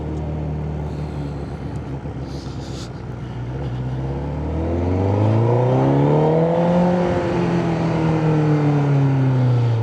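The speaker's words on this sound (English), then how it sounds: "That exhaust does sound nice." A Honda CBR1000RR motorcycle exhaust revs close by, its engine note climbing and falling in smooth sweeps and growing louder midway before easing back down.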